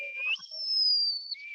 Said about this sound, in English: anybody is whistling.